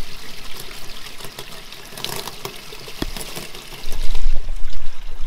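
Rainwater spills over a downspout fitted with a 3D printed leaf filter, a loud, continuous trickling and splashing that grows heavier and more forceful in the final seconds.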